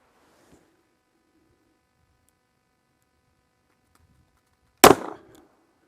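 A single sharp, loud shot from a Kimber K6s revolver firing Federal ammunition on a cold day, a sudden crack with a short decaying tail after several seconds of near silence.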